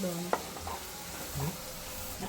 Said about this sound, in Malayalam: അത് അരപ്പൊക്കെ പുരട്ടി വെച്ചേക്കാണ് വറുത്തെടുക്കാൻ വേണ്ടിയിട്ട്